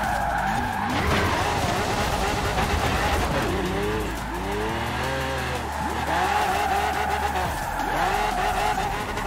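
A Lamborghini on drag tires spins out in the Forza Horizon 4 video game, loud tires squealing in repeated wavering screeches over a roaring engine, with a voice talking underneath.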